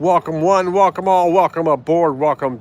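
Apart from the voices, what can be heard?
No everyday noise stands out behind the speech.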